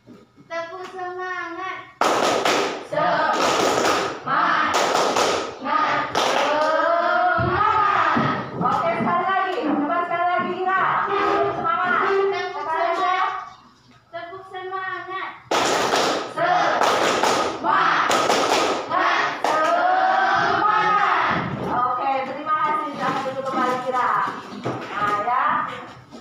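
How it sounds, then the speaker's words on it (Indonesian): A school class performs the 'tepuk semangat' spirit chant in an Indonesian classroom, with loud rhythmic bursts of group clapping woven between chanted children's voices, repeated in two close, energetic rounds separated by a short pause. "Tepuk semangat."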